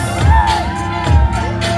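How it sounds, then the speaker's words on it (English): Crowd at a beauty pageant fashion show final in Diphu, Karbi Anglong, cheering and whooping during a prize presentation, with two loud surges of shouts over a steady noisy hall ambience. "can we have a big round of applause?"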